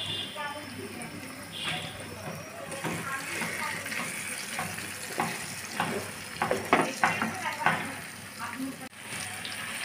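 Pumpkin pieces coated in salt and turmeric frying in oil, steady sizzle with clattering turns of a spatula growing busier toward the end, a voice talking faintly underneath.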